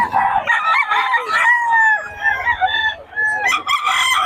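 A stag rooster crows loudly and close, a long drawn-out call with a strained rising and falling pitch, followed by a second crow starting near the end; faint clucking and background voices underneath.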